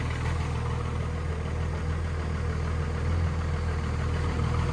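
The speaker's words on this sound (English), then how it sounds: "power steering pump's cold." A vehicle engine idling steadily after a cold start in minus three degree weather, its power steering pump whining from the cold, a loud close drone with a sustained tonal hum and no talking.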